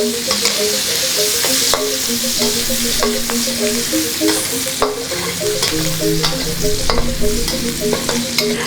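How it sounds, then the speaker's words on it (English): Shallots cooking in oil reused from frying salted fish for Sundanese nasi liwet, a steady close sizzle with frequent stirring scrapes and clinks of a utensil against the pan throughout. "First, I'm going to add shallot. Cook it until it's soft."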